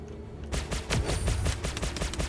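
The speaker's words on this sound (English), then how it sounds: "Warm up that minigun" A Gladius fighter's minigun in Star Citizen fires a rapid, loud burst of closely spaced shots that starts abruptly after a brief quiet moment and keeps rattling steadily to the end.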